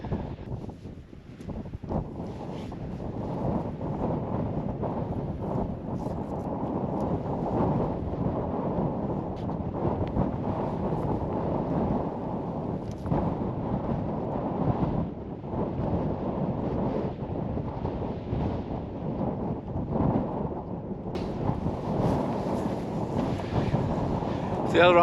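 Strong gusty wind over 40 mph buffeting an open wild camp in Wales, a loud, continuous low roar and rumble that swells and eases with each gust and keeps going throughout.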